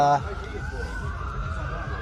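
A wailing ambulance siren rises and falls at a distance behind a suburban Adelaide Australian-rules football match, partly masked by crowd and ground noise, with a voice briefly speaking at the start.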